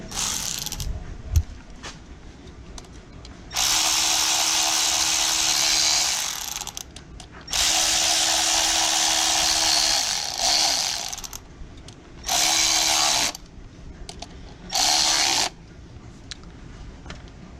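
A ratchet drives T40 bolts on a Chevy Cruze ignition coil in bursts of rapid clicking, two long runs followed by two shorter ones, with quiet pauses between them.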